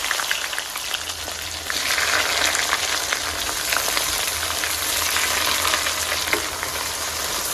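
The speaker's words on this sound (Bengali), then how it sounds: "পেঁয়াজ খুব ভালো করে ভেজে নিব।" Plenty of chopped onion fries in hot oil with cardamom, dried chilli and cloves for a home pilaf and chicken meal, making a dense, steady close sizzle that swells after the first second and carries on without voices.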